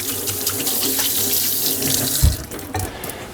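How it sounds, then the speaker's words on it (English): A kitchen tap runs water for a quick rinse, a steady close splashing stream with a brief thud of something knocking in the sink partway through. "now let me give a quick rinse here."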